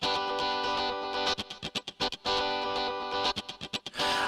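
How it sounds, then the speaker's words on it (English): A distorted electric guitar voice from a Korg Pa4X arranger keyboard plays through a distortion insert effect, sustained gritty chords that break into choppy, stuttering stabs, loud and close with no talking. "The guitar is already using one of the 4 insert effects, a distortion effect."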